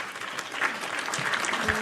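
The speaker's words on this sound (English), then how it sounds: "I call her Cece, but give it up for Chloe." Applause from an audience at a casual live event, a steady broadband patter of clapping running throughout at moderate level, with faint voices underneath.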